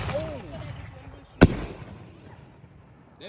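A single firework bursts outdoors at a New Year's celebration, one sharp loud bang midway with a short rumbling tail, while people talk and chatter around it.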